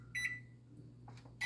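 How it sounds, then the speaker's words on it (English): Keypad beeps come from a microwave oven as its baked potato button is pressed. One short, clear tone sounds, followed by another brief beep a moment later, all fairly faint. "I'm just gonna put the potatoes in the microwave, and I am going to press the baked potato button twice"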